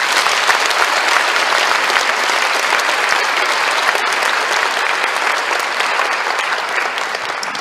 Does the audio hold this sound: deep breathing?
no